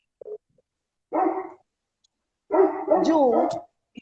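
Dogs bark outdoors in Argentina in short bursts, a quick yip and then a longer run of barks and whining yelps, fairly close and loud against an otherwise quiet background.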